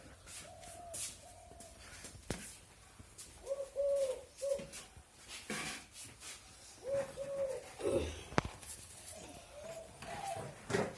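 Spotted dove cooing softly at a middle distance in repeated two- and three-note phrases, separated by pauses filled with faint rustling and scattered background knocks.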